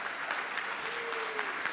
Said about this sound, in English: Maybe like clap for everybody